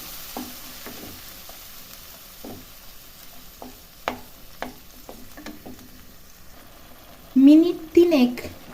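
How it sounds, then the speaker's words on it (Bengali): Garlic potato curry sautéing in a pan, a low sizzle with light intermittent spoon taps and scrapes, and a voice speaking briefly near the end. "আর খুবই ভালো করে কিন্তু আমি এবার কষিয়ে নেব।"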